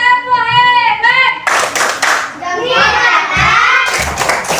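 Children in a classroom chant together, then the class claps in rhythmic bursts of hand slaps and thumps, with voices rising between the claps.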